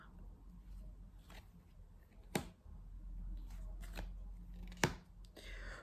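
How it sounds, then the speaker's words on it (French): Tarot cards being turned over and laid down, a few sharp flicks and soft slaps spaced about a second apart, with two crisper snaps standing out against a quiet room hum. "Alors, on va recouvrir quelques cartes."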